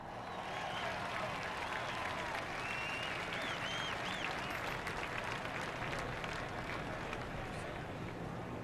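NASCAR fans at Talladega Superspeedway roar and clap after a crash, a broad, continuous crowd din with a voice talking over it and whistles rising through.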